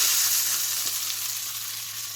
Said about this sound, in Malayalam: ഇത് നമുക്ക് താളിച്ചൊഴിച്ച് കൊടുക്കാം. അതിലേക്ക് ഞാനൊരു കറിവേപ്പില ഇട്ട് കൊടുക്കുന്നുണ്ട്.